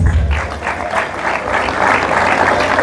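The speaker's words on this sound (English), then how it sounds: "A round of applause for that." Applause from the audience at a university anniversary colloquium rolls on steadily and fairly loud, with a low hum beneath and some voices mixed in.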